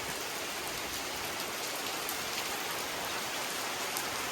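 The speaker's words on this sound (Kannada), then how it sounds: "ಜೋರಾಗಿ ಮಳೆ ಬೀಳ್ತೈತೆ" Heavy rain pours down steadily, a dense, even hiss of drops drumming on surfaces with no pauses and no voices.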